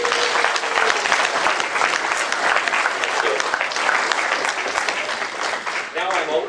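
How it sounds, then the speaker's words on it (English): An audience at a technical presentation on TIG welding repair of a large cast iron axle claps, a loud, dense, steady applause that fills the whole stretch. "we have to applaud to wake up those who have already been."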